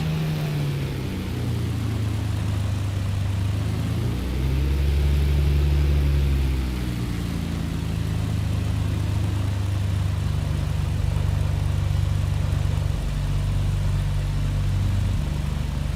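A BN-2 Islander propeller plane in Microsoft Flight Simulator drones steadily at takeoff power, a loud constant engine hum with shifting low tones and no speech over it.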